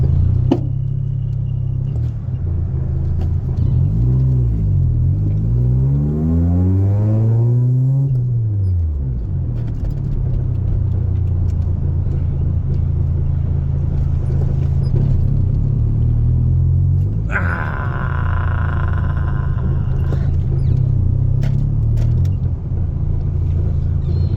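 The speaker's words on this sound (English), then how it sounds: "You've really got to play around with this traffic." Road traffic heard as a loud, continuous low rumble of car engines, with one vehicle sweeping past midway and a brighter engine drone joining later, with no talking.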